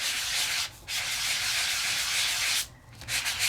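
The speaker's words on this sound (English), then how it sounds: "grab my Sizzix sanding block," A Sizzix sanding block rubs across embossed cardstock to expose the raised heart detail, giving close, steady scratchy strokes with two brief pauses.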